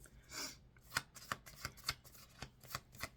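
Tarot cards shuffled by hand close up: a soft riffle followed by a steady series of crisp, evenly spaced card snaps and flicks, alone and quiet.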